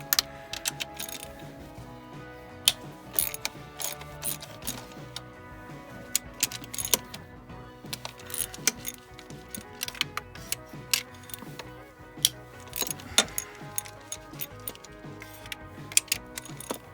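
Ratchet socket wrench clicking steadily in quick, uneven bursts while working on a BMW 335d engine, close and clear with no talk.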